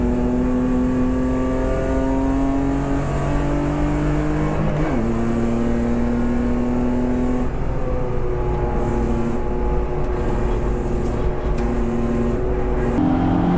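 A race car engine at full throttle in a Superberline 2.0 sprint race at Dijon, heard from on board. It holds a loud, sustained high-revving drone, with pitch sweeps across gear changes and no talk.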